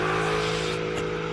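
Drift car engine during a British Drift Championships Pro Qualifying run at Teesside, a brief steady droning engine note, fairly loud and continuous, with no talking.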